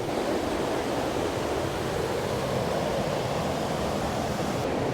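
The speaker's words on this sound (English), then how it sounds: "Look at that waterfall, you guys." A large Icelandic waterfall roars as a steady, dense broadband rush, loud and unbroken with no voices over it.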